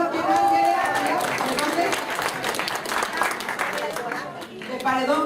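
An audience bursts into applause at a motivational talk on Ganoderma therapy, with steady clapping mixed under a speaking voice and crowd noise throughout.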